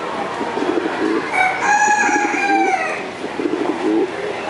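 A chunky, multicoloured show bird calls loudly at close range, giving a couple of drawn-out, tonal, warbling calls against a steady background hum, with no talking.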